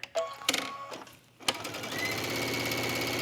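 A sewing machine topstitches along a tunic button placket: a few clicks and short starts, then a loud, steady mechanical whir of rapid stitching close by.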